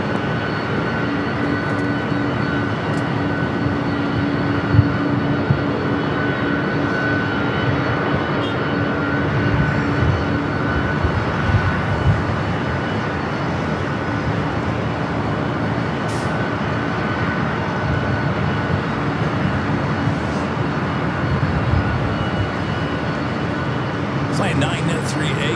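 A jet airliner takes off from the north side runways at Los Angeles LAX, a steady broad engine roar holding at constant loudness throughout, with radio chatter and a voice talking over it.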